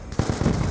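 Rapid burst of gunfire in the video game Black Ops 2 multiplayer, several quick shots in under a second, fairly close and sharp against game background noise.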